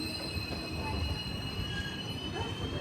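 A train pulls into Kollam Junction, its wheels screeching and squealing loudly against the rails as it rolls into the station, with no voices over the steady mechanical din.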